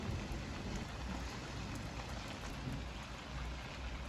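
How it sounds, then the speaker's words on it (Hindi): Heavy rain pours down in a dense, continuous hiss with no pauses, loud and close. "शायद आपको ये आवाज़ आ रही होगी बारिश की।"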